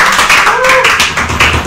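A studio audience on a Chilean football talk show claps for the program's host and director, a steady burst of applause lasting under two seconds, with a brief whistle-like tone rising and falling through it.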